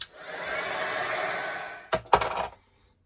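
Hair dryer blowing over an art journal page coloured with Neocolor II crayons, a steady close whoosh for about two seconds that then cuts off, followed by a few handling knocks and silence.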